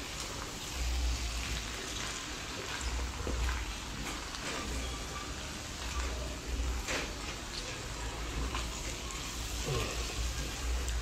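Eggplant frying and softening in a pan of pakbet vegetables, a steady close sizzle running the whole time with small stirring clatters.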